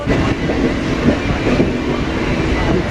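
A Howrah to Puri local train rolls along with a continuous loud rumble and rhythmic clickety-clack of wheels on rails, heard from inside the carriage.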